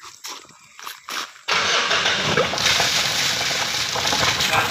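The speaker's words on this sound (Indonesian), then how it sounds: "kita hidupkan mobilnya ya" Mitsubishi Strada Triton pickup being started after a few quiet knocks and clicks: the starter catches abruptly and the diesel engine settles into a steady, loud, close idle that runs to the end.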